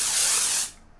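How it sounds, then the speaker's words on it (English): Orbe texturing hair spray released in one continuous close, bright hissing burst that cuts off abruptly, followed by near silence. "This is the Orbe texturing spray, so it's not as thick as hairspray"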